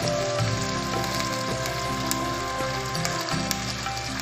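Onion and bay leaf sizzle steadily in a hot pan for paneer biryani, a close, continuous frying crackle that lasts throughout with no voices.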